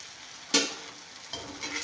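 Homemade kurkure snack pieces frying in hot oil: a sharp burst of sizzling as pieces drop in, fading, then a second softer rise of crackling bubbling, close and fairly quiet with no talk.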